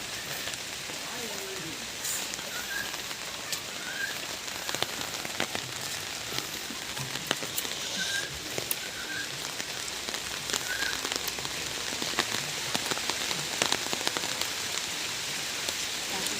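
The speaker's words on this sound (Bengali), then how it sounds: "আজ ওয়েদার খুব খারাপ বৃষ্টি হচ্ছে" Steady rain falls on surfaces in a village, with gusts of wind, keeping up a constant hiss and patter with scattered drop hits and faint bird calls in the background.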